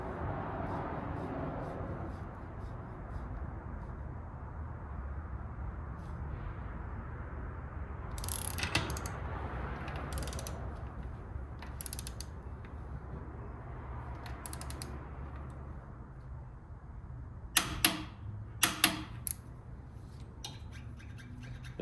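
A wrench tightens the axle nut on a race car, giving a few close ratcheting clicks and creaks over a steady background hum, with a quick cluster of sharp clicks near the end.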